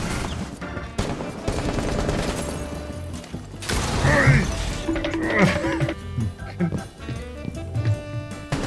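Gunfire in the tactical shooter Rainbow Six Siege: bursts of shots and sharp impacts over busy game noise, with a voice talking over part of it.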